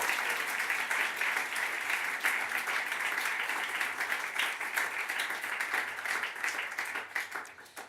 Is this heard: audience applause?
yes